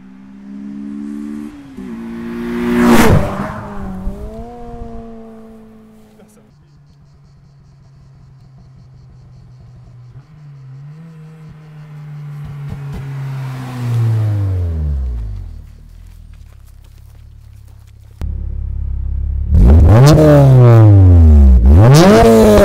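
A Honda Civic Type R EP3's K20A2 engine revs hard several times toward its 8300 rpm limiter, pitch sweeping up to a sharp peak and falling back, with a steady idle between loud bursts nearby.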